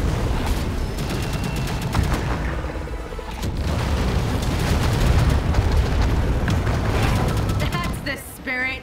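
Continuous gunfire and booming blasts from Catalyst Black, a dense, loud barrage of rapid shots and explosions that runs nearly the whole time and thins out near the end.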